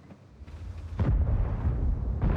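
High-explosive shell slamming into a tank in a combat video game, a deep heavy blast that hits about a second in and rumbles on, followed by another thud near the end.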